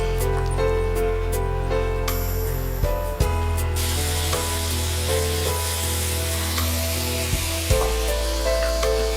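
A vinegar-ground masala paste for sardine vindaloo sautés in oil in a pan with a steady, close sizzle and hiss, broken by a couple of soft knocks as it is moved about, over faint background music.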